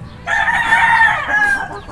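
A single loud, close rooster crow holds for well over a second, then tails off into quiet farmyard background.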